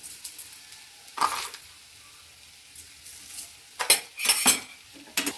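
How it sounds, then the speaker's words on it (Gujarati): A spoon scrapes and stirs sweet potato and carrot halwa with sugar in a pan, quiet at first, then a short burst near the start and a cluster of louder scraping strokes toward the end. "સારી રીતે મિક્સ કરી દઈશું।"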